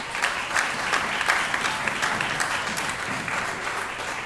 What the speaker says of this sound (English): let's give Soundscapes as a whole a big round of applause